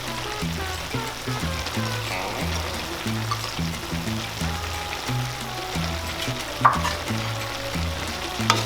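Bamboo shoots (labong) go into a simmering pan for paklay with lemongrass and are stirred, giving a steady bubbling sizzle with rhythmic low thumps and scrapes of the spoon and one sharp clink near the end.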